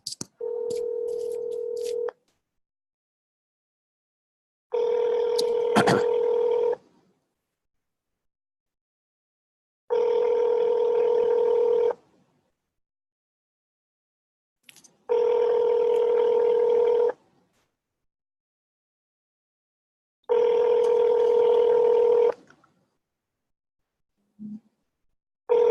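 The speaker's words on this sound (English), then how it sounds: "So I'm going to call them right now." A telephone call being placed gives a brief burst of dialing tones, then five evenly spaced ringback tones, each about two seconds long and separated by silence. The tones are loud and clean, with a short click near the end.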